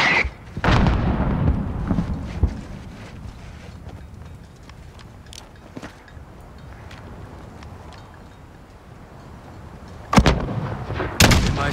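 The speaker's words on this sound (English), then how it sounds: "There's still a mortar out there." Mortar and gunfire in a Call of Duty: Modern Warfare combat mission: a heavy booming blast at the start, then scattered sharp reports over a rumbling low bed, and two loud explosive hits near the end.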